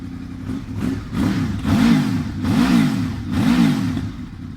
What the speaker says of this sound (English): Engine sounds sweet.